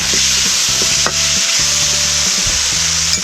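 Squid, blanched beforehand, stir-fried in a hot pan gives a loud, steady sizzle, with repeated scraping strokes of a spatula running through it until the cooking is done.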